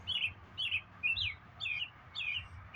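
Five quick, bright bird chirp phrases repeat at an even pace, each a short twittering burst, over a low steady rumble with no voices.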